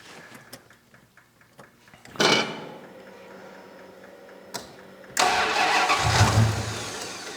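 A turbocharged V8 police car with custom exhaust, EFI and an intercooler cranks in short ticking bursts, then catches and fires into a loud, rumbling idle close to the microphone.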